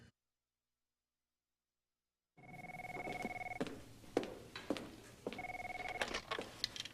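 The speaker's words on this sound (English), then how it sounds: "a woman who only answers the phone because she's tired of listening to it ring" An office telephone rings in repeated electronic bursts after a stretch of silence, clear and close, with clatter and handling sounds between rings and no talk.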